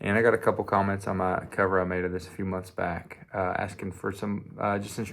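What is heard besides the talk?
No everyday noises stand out.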